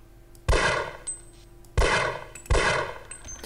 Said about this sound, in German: Diese Pistole ist immer sehr gut geeignet, die Headcrabs kalt zu machen.